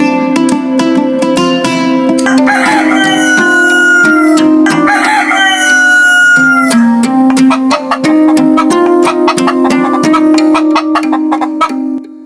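A cartoon rooster crows loudly in drawn-out, repeated calls layered over a steady musical backing, with clucking chicken sounds mixed in.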